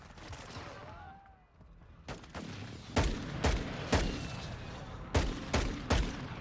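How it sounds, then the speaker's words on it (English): A video game battle with an airstrike and gunfire: a string of loud, sharp blasts and shots spaced about half a second to a second apart, after a quieter stretch with a faint whistling tone. "Friendly airstrike in the AO."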